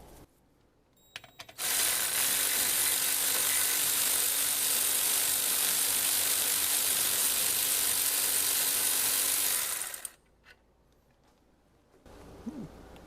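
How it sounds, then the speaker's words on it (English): A power ratchet or impact tool buzzes loud and continuous for about eight seconds while removing the brake caliper mounting bolts on a Tesla Model 3, with brief clicks before and after. "we're removing the 2 bolts that actually mount the caliper"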